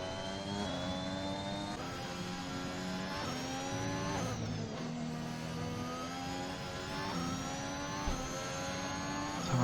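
A racing game Alpine car's engine drones steadily at high revs, holding a sustained whine with slight pitch shifts, loud and continuous throughout.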